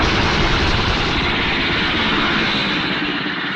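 A loud, steady helicopter engine roar fills the whole stretch, a dense continuous drone with no pauses, close and unchanging.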